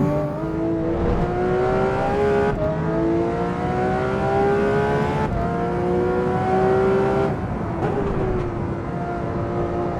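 A road car in Assetto Corsa Evo drives with a steady, loud engine drone whose pitch climbs through each gear and drops at three shifts, with no voices over it.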